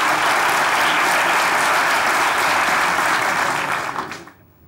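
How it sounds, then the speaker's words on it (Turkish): Loud, dense audience applause welcoming a stand-up comedian onto the stage at a Turkish comedy show, sustained steadily and then fading out quickly near the end. "Alkışlarınızla Salih Tıraş geliyor."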